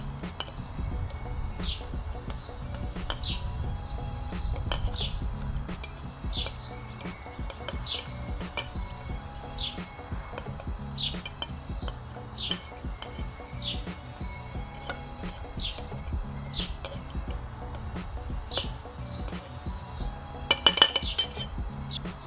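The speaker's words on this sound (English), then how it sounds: "What we're doing now is just muddle in the leaves," Mint leaves are muddled in a metal cocktail tin for a strong mojito, a quiet, regular series of pressing knocks and soft metallic clinks repeating every second or so, with a brief louder clatter near the end.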